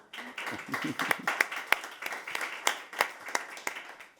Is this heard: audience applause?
yes